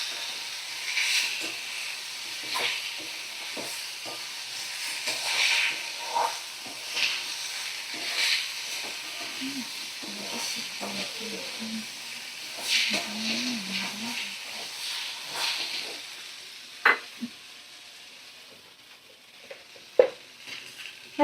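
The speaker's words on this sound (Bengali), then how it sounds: "সমস্ত মশলা ভালো করে আমি কষিয়ে নেব" Spices sautéing in a pan while fish and vegetables cook: a steady hiss and sizzle runs throughout, broken by scraping stirs and a few sharp clacks of a spoon on the pan.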